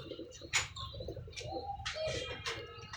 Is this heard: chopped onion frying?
no